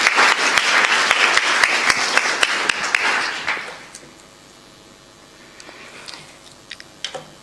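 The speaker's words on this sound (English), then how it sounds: "Let's give them a round of applause." Audience applause at a network operators' conference gathering, a dense round of clapping that holds steady for a few seconds, then thins and fades to scattered late claps near the end.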